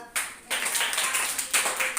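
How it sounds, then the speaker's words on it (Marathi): A class of young students claps together in a classroom, a burst of close hand claps that starts, pauses briefly, then continues in uneven rounds. "टाळ्या वाजवा एकदा"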